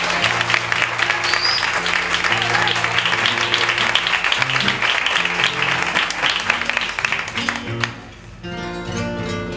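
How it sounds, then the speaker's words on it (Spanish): Warm audience applause at an album launch concert, continuous clapping over sustained low musical notes, thinning out near the end as the instrument carries on alone. "Un aplauso para él."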